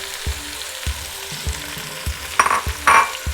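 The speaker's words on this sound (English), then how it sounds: "now I'm going to add my onions and my garlic" Onions and garlic hitting a hot pan beside browned chicken pieces for Jamaican curry chicken, a crackling fry with a rhythmic tap of the spoon and bursts of louder sizzle as more goes in, close.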